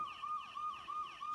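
A fire engine siren wails, cycling up and down about three times, steady and fairly loud, with no voices over it.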